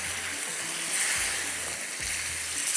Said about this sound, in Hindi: और इसको दोबारा से आपने भूनना है।